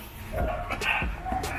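An American bully and a French bulldog meet on a walk, with a few short yips and whimpering barks close by amid shuffling and movement.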